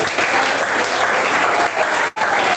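A church congregation applauds during a sermon, giving loud, dense, sustained clapping that cuts off briefly before resuming.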